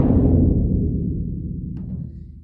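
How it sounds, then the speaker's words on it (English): A concert bass drum is struck once without damping and lets out a loud, deep boom that rings on and decays slowly across the whole span, with a faint tap partway through. "This is the concert bass drum."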